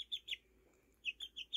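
A chicken on a farm gives soft, high clucks and chirps, a few quick notes in two short bursts with a pause between, faint and close in a quiet setting.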